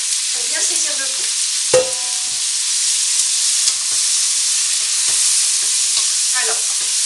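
Chunks of trimmed beef chuck, cut for a Flemish carbonade, sear over high heat in a pan, giving a steady, close sizzle with a few brief clatters and stirring scrapes.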